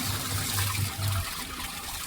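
Steady running water splashing from a washing machine tap, a continuous gushing flow with a low rumble underneath.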